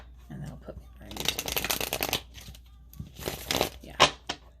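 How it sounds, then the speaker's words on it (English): Tarot cards being shuffled by hand in bursts of dense riffling and crinkling, near and fairly loud, with a sharp snap of the deck near the end and brief voice sounds between the shuffles. "So I'm going to do one really good one"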